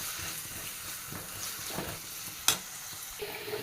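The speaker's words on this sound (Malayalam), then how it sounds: "ഇതാ പട്ട, ഗ്രാമ്പൂ, ഏലക്ക, സവാള, നന്നായിട്ടൊന്ന് വഴറ്റിയെടുക്കാം." Onion sautés with cinnamon, cloves and cardamom in a pan, a faint, soft sizzle with a few stirring scrapes and one sharp clink of the spoon against the vessel.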